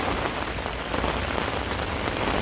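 Steady, dense rain patters on a tiny camping tent during a gold-mining trip in Alberta, a continuous close hiss with no breaks and no voices.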